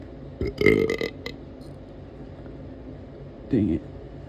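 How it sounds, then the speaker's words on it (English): A big close-up burp bursts out with a gravelly, stuttering edge, followed by quiet and then a shorter second belch near the end against a faint background hiss. "Here comes another big burp."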